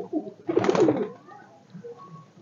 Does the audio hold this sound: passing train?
no